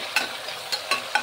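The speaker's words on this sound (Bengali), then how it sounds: "এবার তেলের মধ্যে মাংসটাকে দিয়ে ছেড়ে দিলাম আমি।" Goat mutton seasoned with salt and turmeric frying in hot oil, a soft sizzle punctuated by four quick scraping strokes of a stirring spoon.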